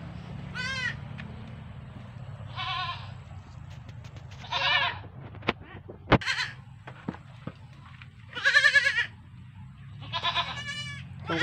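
Newborn baby goats on a farm bleat in several separate wavering cries spread across the clip, some close and loud, with a few sharp clicks and low background rumble in between.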